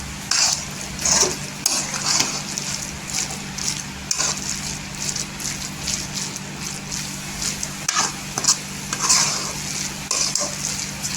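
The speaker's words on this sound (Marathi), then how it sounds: "पूर्णपणे असं मिक्स करून घ्यायचं एक पाच मिनटं" Modak filling being stirred and mixed in a pan, a steady scraping and sizzling texture with repeated spoon strokes against the pan at a slow, regular rhythm, close and fairly loud.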